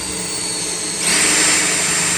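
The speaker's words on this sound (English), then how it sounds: "We have to go back and drill that hole out." A hand-held drill bores out a hole in a connecting rod bushing for a 172 Ford engine, a steady high whine that steps up in pitch and loudness partway through before cutting off.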